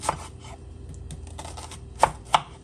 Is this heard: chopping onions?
yes